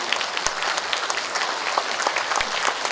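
Steady applause from an audience, a dense patter of many hands clapping at an even level throughout, with no talking over it.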